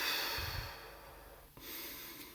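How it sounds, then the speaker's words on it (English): A long, airy breath hisses steadily out, then a shorter breathy sound follows; close and quiet, with no talking. "Take 5 breaths, breathing out of the mouth"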